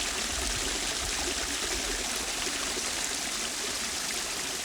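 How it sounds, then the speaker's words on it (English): Water runs steadily through recirculating garden water features in a tropical botanical garden on Kauai, a constant broadband rush and trickle with no pauses and no voices. "they distributed and created all these water features that recycle water"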